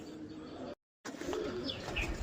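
Female racing pigeons with stamped wings coo softly nearby, low throaty calls with a brief chirp, broken by a short moment of silence before the cooing resumes.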